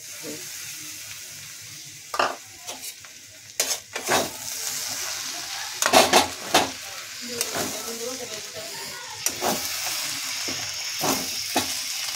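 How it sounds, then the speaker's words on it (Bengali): A pan of muri ghonto, rohu fish head cooked with gobindobhog rice, being stirred over steady frying sizzle, with repeated scraping spoon strokes and occasional metallic clinks at close range, loud and irregular; no voices. "একটু ঘেটে দিচ্ছি"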